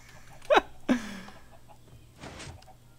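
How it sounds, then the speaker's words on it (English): Two short clucking calls from chickens in Minecraft, a sharp one followed quickly by a second lower, drawn-out cluck, then a fainter third sound a moment later, with no talk over them. "Or is there just a couple chickens?"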